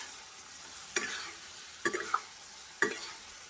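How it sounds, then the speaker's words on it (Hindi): A spoon stirs and mixes garlic paste with a chili and onion masala in a pan: a faint, steady sizzle with three or four distinct scraping strokes at uneven intervals. "ये मसाला अच्छे से पक जाए, इसके बाद हमें इन दोनों को ऐसे मिक्स कर देना है।"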